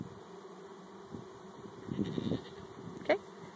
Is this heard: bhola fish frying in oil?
no